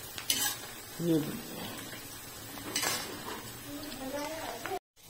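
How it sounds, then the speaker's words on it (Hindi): Chopped onions frying in a pan as soybean chaap is prepared, giving a low sizzle with utensil scrapes and clinks against the pan, while someone talks over it near the start. "अब प्याज को करना है फ्राई, मतलब खूब भूनना है, बढ़िया करके भूनना"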